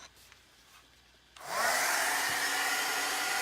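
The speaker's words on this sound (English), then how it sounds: "we want to take the heat tool and dry him off again" A heat tool switches on after a quiet moment with faint handling noise, then blows a loud steady whooshing hum that keeps going while drying chalk transfer paste, close up with no talking.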